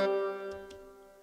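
A sampled concertina from Eduardo Tarilonte's Era library holds a reedy, buzzy chord that slowly fades, with a couple of soft low notes joining near the end, heard alone and fairly quiet.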